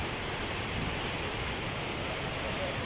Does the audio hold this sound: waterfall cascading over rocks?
yes